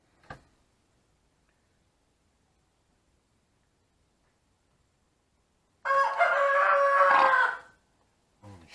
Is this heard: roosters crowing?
yes